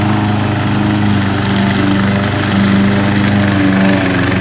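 A remote control hybrid lawn mower runs steadily nearby with a constant droning engine hum and blade whir, no breaks in the sound.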